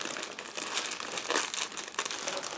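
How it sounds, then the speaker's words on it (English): A plastic bag from a 1/24 Aoshima Lamborghini Diablo GTR model kit is pulled open, giving close, continuous crinkling and rustling with a few sharper crackling bursts, without voices. "Now I'm opening the next plastic bag."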